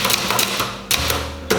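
Someone types on a typewriter, with several sharp mechanical key strikes in an uneven rhythm, close and loud.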